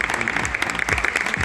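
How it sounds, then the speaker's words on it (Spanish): Audience applause at a cheerleading performance, dense clapping with scattered shouts and voices mixed in, steady and fairly loud throughout. "¡Aplauso! ¡Qué bonito!"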